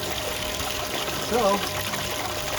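Water runs through a small prototype sluice flutter box header, a steady close trickling flow with a brief louder splash partway through and a voice speaking briefly over it.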